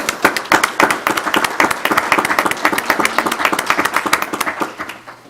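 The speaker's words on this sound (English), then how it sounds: "let's just give them a round of applause." Audience applause at a school district board meeting: a modest group clapping in quick, uneven bursts, fairly close, tapering off near the end.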